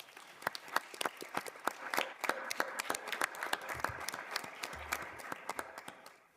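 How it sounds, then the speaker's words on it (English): An audience at a Buncombe County Schools board of education meeting applauds the state's top ten teachers, with distinct individual claps ringing out in an uneven, moderately loud patter across the room for several seconds. "If you'll give everybody a round of applause."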